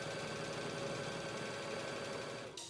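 A sewing machine stitches a quilt in a fast, continuous whirring run at close range, its motor hum and needle chatter holding steady before cutting off abruptly near the end.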